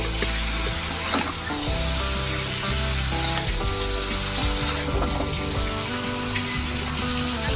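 Food fries in a hot pan in a home kitchen, a loud, close, continuous sizzle with scattered pops and light stirring clicks that runs for several seconds, with no one talking.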